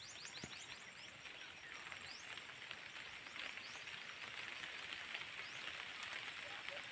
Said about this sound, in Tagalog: ay ulan na mga kasaka